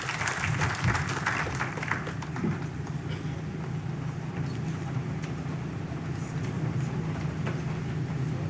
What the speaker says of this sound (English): Kindly give him a clap as he comes.